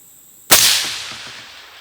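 A sharp, loud crack from a single rifle shot at a shooting competition, followed by a lingering rolling echo that slowly fades; a faint metallic impact on a steel target may ring in the tail.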